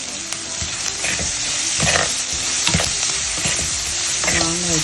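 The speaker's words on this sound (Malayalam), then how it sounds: "മാങ്ങ ഇട്ട് ഇളക്കുക" Mango pieces and onion fry and are stirred in a pan for a fishless vegetarian meen curry, giving a steady, close sizzle throughout with repeated scraping and stirring strokes and no talk.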